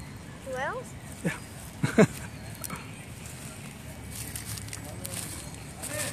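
A dog gives high whimpering yips and a couple of short sounds while it shuffles and moves about nearby. Low chatter and background noise continue throughout.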